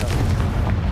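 Confringo, the fire spell from Hogwarts Legacy, goes off as a dense, continuous booming blast with a low rumble that fills the whole short moment at steady loudness.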